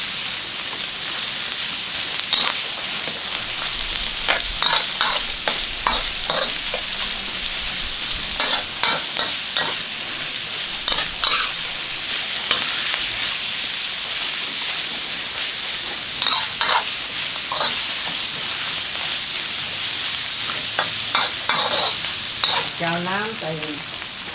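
Fish sizzles steadily as it fries in hot oil, while a utensil stirs and scrapes in the pan with repeated clatters and crackles throughout.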